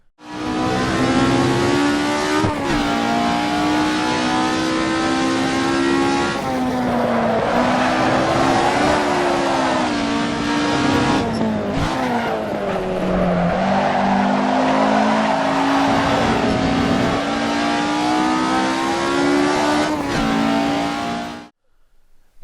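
Default engine sound of a race car in Assetto Corsa, a loud continuous simulated engine note rising and falling through gear changes and revs for about twenty seconds, with brief tire squeal, then cutting off abruptly.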